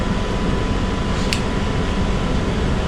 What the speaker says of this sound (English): Inducer motor.